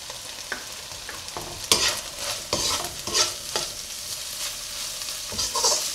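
Sauces with garam masala and white pepper sauté for egg fried rice in a hot pan, a continuous sizzle with several loud scraping stirs of a spatula, close and without talk.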